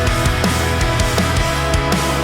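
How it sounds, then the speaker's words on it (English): A drum kit playing a steady groove after mixing, with punchy kick and snare hits repeating at a regular rhythm over a dense, loud, full-band mix, close and continuous with no voices. "Here's how I took these drums and mixed them to sound like this."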